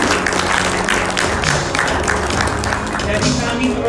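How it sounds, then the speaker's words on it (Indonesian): A meeting audience gives loud, sustained applause in a busy room, with the clapping mixed under voices and crowd noise throughout. "Mari kita berikan tepuk tangan yang luar biasa bagi kerjasama yang baru saja kita saksikan."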